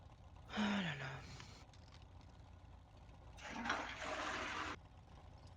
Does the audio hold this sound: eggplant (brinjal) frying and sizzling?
no